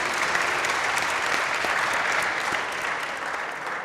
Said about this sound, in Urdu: وہ سب سے پہلے تو ان کے لیے تالیاں ہونی چاہیے اس بات کے اوپر